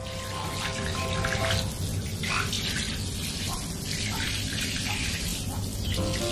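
Tap water runs steadily into a bathroom tub while two large pet snakes are bathed. The flow is loud and close, with faint splashing and no pauses.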